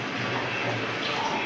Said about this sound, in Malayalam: തിളപ്പിച്ചാറിയ വെള്ളം ഒഴിച്ചു.